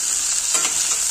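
Tofu (tokwa) frying in a pan for a pechay stir-fry, a steady close hiss and sizzle with a brief stirring scrape in the middle.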